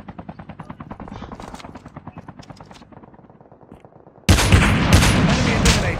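Rapid bursts of automatic gunfire from a COD Mobile battle royale match, a steady stuttering rattle that thins out, then a loud, dense barrage of shots and blasts erupts near the end.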